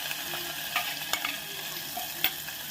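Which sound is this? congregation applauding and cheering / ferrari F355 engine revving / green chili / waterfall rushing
green chili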